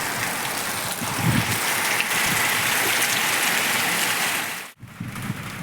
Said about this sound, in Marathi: बरं झालं आज पाऊस आलाय